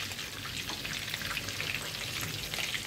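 Mince-coated onion rings frying over low heat in a pan, a steady dense sizzle of hot oil holding at an even level throughout, close and continuous with no talk.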